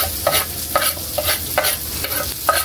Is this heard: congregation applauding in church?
no